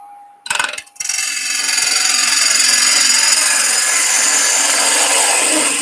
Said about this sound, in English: So first cut, we're just going to level the top of my scrap block.